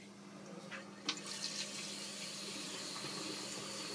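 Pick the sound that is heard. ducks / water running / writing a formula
water running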